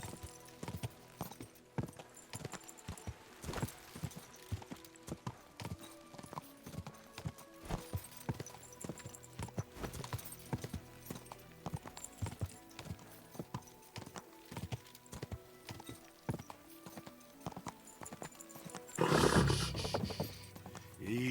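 Horse hooves clip-clop in the video game Kingdom Come Deliverance 2, a steady rhythmic trot heard close over game ambience, ending in a louder burst near the end.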